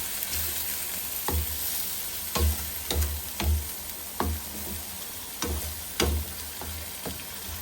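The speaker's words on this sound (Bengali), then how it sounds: "মশলাটা কষানো হোক, আরেকটু অপেক্ষা করি।" Spice masala sizzles steadily in a pan for a pangas fish bhuna, with intermittent clicks and scrapes from stirring over a constant frying hiss; no talking.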